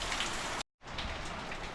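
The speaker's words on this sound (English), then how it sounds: "we've had 1 or 2 lulls in the rain and the storms, but it's now just tippling down" Heavy rain pours down during a storm in Mallorca, a dense steady hiss of drops on surfaces, broken by a brief dead gap before the downpour resumes at full strength.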